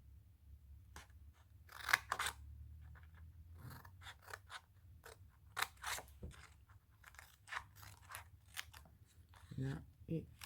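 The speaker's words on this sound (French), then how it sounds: "je vais couper un petit peu en biais quand même pour faciliter au niveau des angles" Scissors snip paper in short, crisp cuts, some angled at the corners while making a paper advent calendar, with quiet handling noise and occasional speech.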